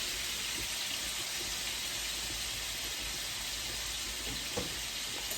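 Shrimp cooking in a hot pan for shrimp pasta: a steady, close sizzle and crackle of frying that holds even throughout, with one small clatter near the end.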